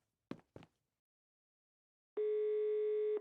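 A steady telephone dial tone sounds alone on the line for about a second, loud and unbroken, after two brief clicks from the handset.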